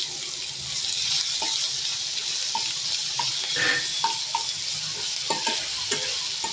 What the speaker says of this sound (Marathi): आता गॅस आपण बारीक केलेला हे त्याच्यामध्ये आलं लसूणची पेस्ट टाकतो आपण.